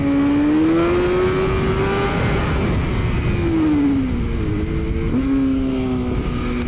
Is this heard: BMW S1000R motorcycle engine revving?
yes